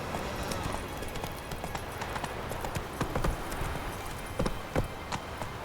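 Roach, a horse in The Witcher 3 video game, gallops in steady rhythmic hoofbeats, moderately close but fairly quiet under ambient outdoor noise, without speech.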